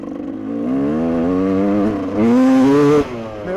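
A freshly repaired GasGas dirt bike with an old carburetor revs close up, the engine note climbing steadily, dropping briefly, then jumping to a louder, higher blip before cutting back to idle.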